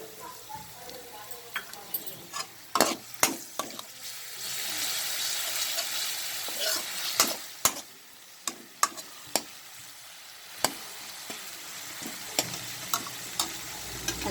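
Baby corn in a sauce mixture being stir-fried for a pepper fry: a close, steady sizzle runs beneath repeated sharp clacks of a spatula striking the pan, with a louder hiss swelling midway.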